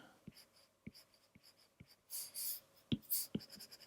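A pencil or pen draws lines on paper for a stick figure, giving soft scratchy strokes in a steady rhythm, close up and fairly quiet with no talking.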